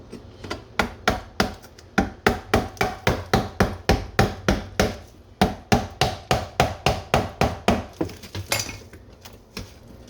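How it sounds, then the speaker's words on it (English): Plain sheetrock being hacked out with a cutting knife during slate kitchen tile removal, a loud, steady series of sharp, evenly spaced chopping strikes close by, continuing for about ten seconds. "I'm gonna come back and hit it with this cutting knife."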